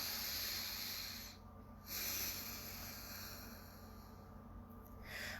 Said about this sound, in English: So everybody take a big breath.